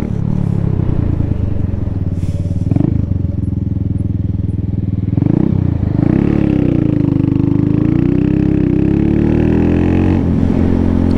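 A motorcycle ridden on the road, its engine droning loud and close throughout, with the pitch rising and falling as it shifts and accelerates, and wind noise running under it.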